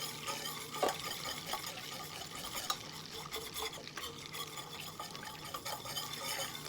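Caramel sauce bubbling and being stirred in a pan on a portable stove, with a steady close sizzle and scraping stir strokes throughout, a few sharper clinks of the utensil.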